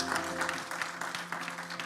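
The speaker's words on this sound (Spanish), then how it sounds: "Dele ese aplauso fuerte a Cristo" Congregation in a church service clapping together, a short, fairly faint patter of many hands with an uneven rhythm.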